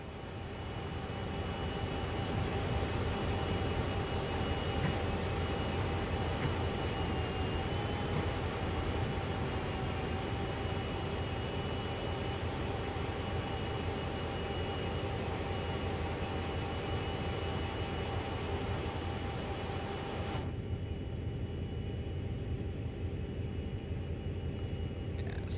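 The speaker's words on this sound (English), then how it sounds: "Have a play with moving the camera around while the train is coasting along." Train coasting along in Train Sim World, a steady low mechanical drone with faint tonal hums, constant and unchanging for a long stretch before the upper hiss abruptly drops away near the end.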